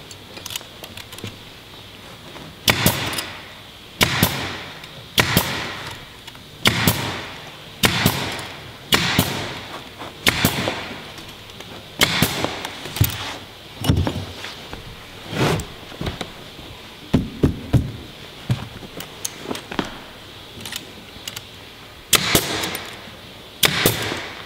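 Air stapler firing staples into upholstery, a rapid run of sharp pneumatic bangs at short, fairly regular intervals with hissing air between shots, close and loud.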